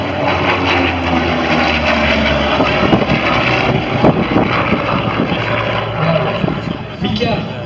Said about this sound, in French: on va juste regarder le passage de ce merveilleux avion de Corsair